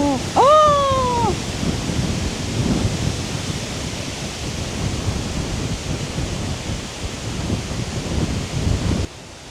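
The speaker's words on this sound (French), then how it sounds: "oh c'est de pire en pire le vent" Strong wind roars across a lake in Sweden during a canoe trip, a loud, steady rushing blast with gusty surges. A brief tonal sweep sounds near the start.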